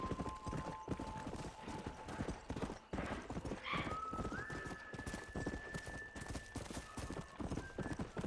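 A horse in the video game Red Dead Redemption gallops in a steady, rapid clip-clop of hooves throughout, with a brief neigh partway through over faint game music.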